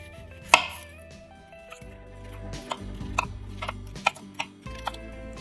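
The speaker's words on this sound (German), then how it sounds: "In der Zeit schneide ich das Gemüse klein." Knife chopping onion into rings and bell pepper into strips on a cutting board, a series of crisp, irregular thuds and clicks close by with no talking.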